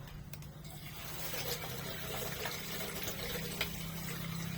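Harvested Madre de Agua leaves are washed in water, producing faint, continuous sloshing and splashing with a low background hum.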